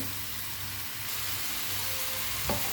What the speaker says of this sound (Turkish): Evet, pırasalar kavrulmaya başladı.